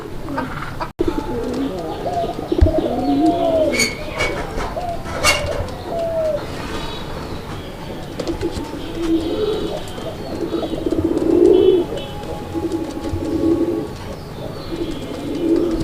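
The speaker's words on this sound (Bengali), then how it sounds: "দেখেন আপনারা কবুতর কি পরিমাণ ডাকে" Pigeons coo repeatedly in low, throaty, rolling calls, close by, with faint chirps and light background noise.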